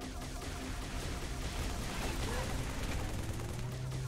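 Rapid gunfire in the video game Halo 3 on Legendary difficulty rattles in dense overlapping bursts aimed at the player, a continuous barrage of shots with booming impacts at steady moderate loudness.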